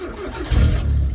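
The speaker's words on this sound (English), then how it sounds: "starts straight up as you'd expect an MX5 engine to do so." A Mazda MX5 engine fitted in an MGB GT cranks briefly and catches, firing up into a steady low rumble within about a second.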